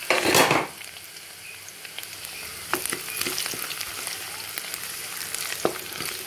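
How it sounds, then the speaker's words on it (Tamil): Garlic sautéing in hot oil for a Tamil dried-fish thokku, a sharp burst of sizzle at the start settling into a steady crackling fry with occasional stirring clinks, close and fairly loud. "நல்லா பூண்டை நல்லா வதக்கிக்கோங்க."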